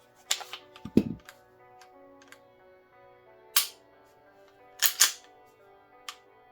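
A Walther pistol trigger is pulled and reset, giving several short, sharp mechanical clicks in small clusters, close and fairly loud against a quiet background, with one duller knock near the start.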